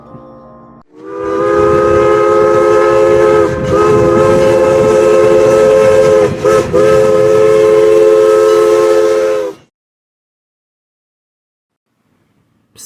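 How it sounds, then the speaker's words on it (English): A loud steam whistle blows in one long, sustained chord for about eight seconds over the rumble of a passing train, then stops abruptly into silence. "you might even hear the famed steam engine's whistle"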